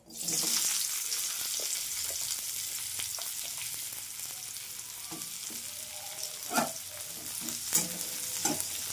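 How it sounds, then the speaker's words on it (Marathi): Onion frying in a pan, a loud steady sizzle that starts abruptly and continues throughout, with occasional clinks of a spoon stirring, close up and without talking. "त्यानंतर आपण कांदा फ्राय करणार आहे"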